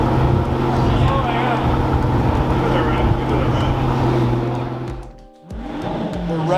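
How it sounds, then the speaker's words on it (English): A new Pagani Utopia supercar in exposed carbon with its engine running, giving a loud sustained roar with steady revving throughout, a brief dip near the end, and chatter from a crowd around it. "Revving the Utopia, yo."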